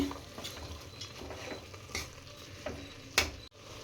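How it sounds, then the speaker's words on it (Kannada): Ginger garlic chilli paste and masala roasting in hot oil, a quiet steady sizzle broken by a few spoon scrapes and light clinks against the pan, close but faint, no talk. "ಇಲ್ಲಿ ಮಸಾಲೆ ಐಟಮ್ನ ಹಾಕ್ಕೊಂಡ್ಮೇಲೆ ಚೆನ್ನಾಗಿ ಎಣ್ಣೆಯಲ್ಲಿ ರೋಸ್ಟ್ ಮಾಡ್ಕೊತಾ ಇದ್ದೀನಿ"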